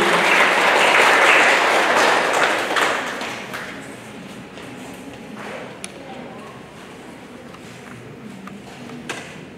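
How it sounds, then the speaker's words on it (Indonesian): Audience applause at an institutional outreach session at a university in Indonesia, loud dense clapping at first that fades over several seconds into scattered claps and low murmuring from the hall. "Berikan tepuk tangannya pada Ibu."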